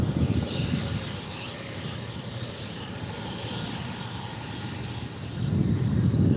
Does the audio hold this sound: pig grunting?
no